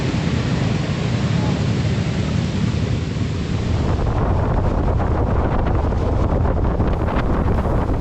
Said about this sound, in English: I don't know if you can hear this wind.